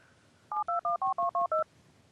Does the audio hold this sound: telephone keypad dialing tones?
yes